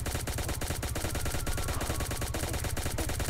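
Rapid, continuous automatic weapon fire in the video game Pixel Gun 3D, a dense stream of sharp shots with no talking.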